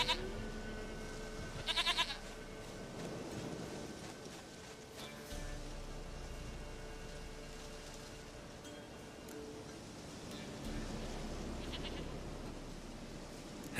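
A goat in The Witcher 3 bleats in short bursts, loudest near the start, over a steady patter of rain and soft ambient sound.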